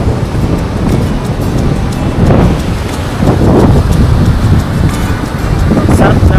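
Strong wind at a beach buffets the microphone with a loud, continuous roar, mixed with the wash of surf.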